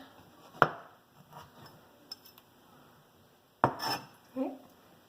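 Knife cutting the end off a vegetable being prepared for nacho cheese sauce: two sharp, close clicks against a board, separated by a quiet pause, with a few faint handling sounds between them.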